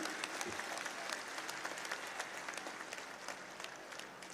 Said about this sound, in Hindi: मैं चाहूंगा कि आप सब तालियां बजाकर बताइए सहमत हैं।